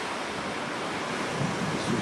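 Ocean surf and wind at Wavecrest Beach on Cape Cod in October make a broad, steady roar, with a wave washing in and swelling slightly toward the end, and no one speaking.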